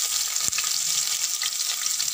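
Steady close sizzling and crackling of spices and chopped onion frying in oil in a pan, with a single brief knock of a utensil near the start.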